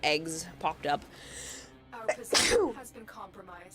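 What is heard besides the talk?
sneeze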